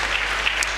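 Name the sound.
audience applause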